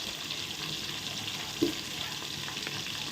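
Onions and green chillies frying for sambar, a steady close sizzle with a faint stir near the middle, no voices.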